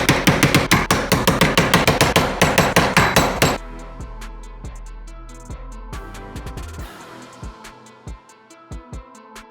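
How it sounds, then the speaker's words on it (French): Hammer striking a transformer coil to knock it apart: a fast, loud run of sharp metallic blows, then slower, spaced ringing hits with resonant metal tones, close by and without speech. "Là, on va taper sur la bobine."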